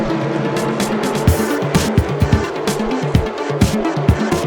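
Race cars at Kingsport Speedway, running two-by-two side by side down the backstretch after a restart, roar continuously with rising and falling engine pitch and repeated passes close by, loud throughout.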